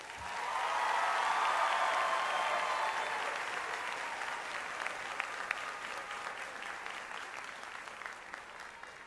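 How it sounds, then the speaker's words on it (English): Audience at a high school commencement for the class of 2022 breaks into applause that swells quickly, holds strong for a few seconds, then gradually thins into scattered claps. "Please give a round of applause to the class of 2022."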